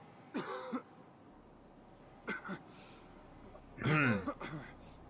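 A character coughs in the survival video game I Am Alive, three separate bursts of hoarse, throaty coughing and throat clearing, close and fairly loud against a quiet background.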